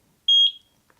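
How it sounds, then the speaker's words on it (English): A Eufy Video Doorbell Dual gives a single short, clear electronic beep when its sync button is pressed. The tone is close and bright, with near silence before and after. "press the sync button until we hear a beep"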